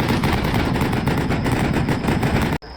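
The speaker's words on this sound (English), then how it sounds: "Soon after, an MG position opens fire on the house, along with another infantry squad to the right." Sustained machine gun fire from a machine gun position in the Combat Mission: Black Sea war game, a dense continuous rattle of rapid shots at close range, loud throughout and cutting off abruptly at the end.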